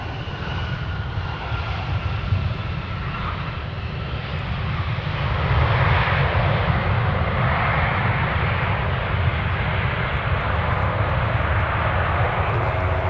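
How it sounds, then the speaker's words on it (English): An Endeavor Air Airbus airliner on final approach to runway 12 right at Minneapolis–Saint Paul airport, a steady broad engine roar that grows louder midway and holds, with no talk over it. "our next arrival coming in from Oklahoma City, Endeavor Air 4925. On a 4 mile final, an Airbus"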